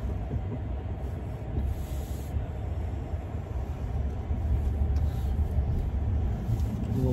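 A Tesla Cybertruck electric pickup drives along, heard from inside as a steady low rumble of road and tire noise that holds evenly throughout without any speech.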